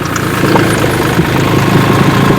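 Tractor engine running during potato harvesting in a field, a loud steady mechanical chugging drone with faint rattling vibration, continuous and close throughout.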